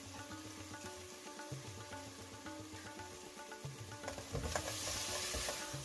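Curry leaves dropped into hot oil with a cooked masala in a pan for a Malabar-style ash gourd curry, giving a steady close sizzle and stirring scrape that swells louder toward the end, with no talking.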